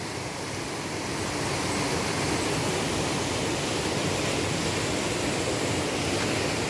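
Floodwater rushing through a street in the Sagrada Família neighborhood of Nova Prata, after overflowing and tearing up paving stones and piping; a loud, steady broadband roar that carries on alone for the whole stretch.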